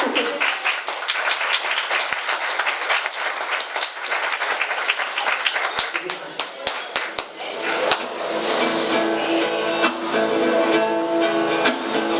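Audience applause at a book presentation and song performance in the FNAC store in A Coruña: a loud, steady burst of many hands clapping that lasts about eight seconds, then gives way to sustained tonal sound mixed with a few claps.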